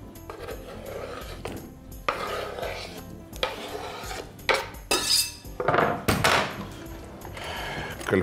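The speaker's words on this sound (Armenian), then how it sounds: "Շերտատում ենք մանր կտրատում եւ լցնում հարմար ամանի մեջ։" Tomatoes finely chopped for a salad and tipped into a bowl: irregular knife taps on a board, then louder scraping and clattering bursts as pieces are gathered and dropped in, close and uneven.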